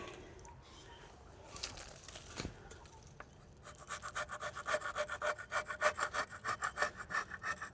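Rusty car remains dug from a dump site being rubbed by hand, a soft scuff at first, then a steady rhythmic rasping scrape of regular strokes, close and quiet with no talking.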